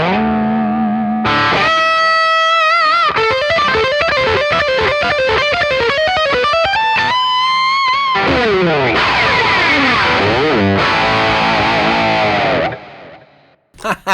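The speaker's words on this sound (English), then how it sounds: "Let's go to bridge pickup with a heap of gain." Awesome Artist AS72 HSS electric guitar played through the bridge pickup with heavy gain, loud distorted riffs and sustained chords filling the clip alone, ending in a ringing decay.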